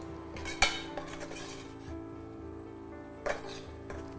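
Paneer and curd gravy thickening in a pan is stirred with a metal spoon. Two sharp clinks of utensil against pan stand out over a quiet, low kitchen background, with softer scrapes between them.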